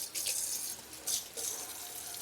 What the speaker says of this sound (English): I think I am gonna add a little bit more water though.